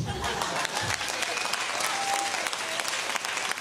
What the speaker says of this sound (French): Applaudissez si vous pensez que c'est de la bullshit.